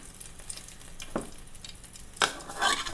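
Old Bay seasoned chicken drumsticks being flipped in an air fryer basket, a few brief scrapes and clatters of tongs against the metal basket over a faint sizzle, close and quiet.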